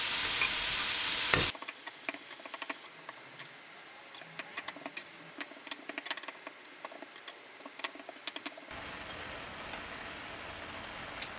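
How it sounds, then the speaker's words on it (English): Minced meat frying in a pan is broken up and stirred, a soft crackling sizzle punctuated by scattered scraping taps of the spoon, close and steady without speech. "You just want to break up the mince, you don't want any big chunks. And cook this until the mince is brown all the way through."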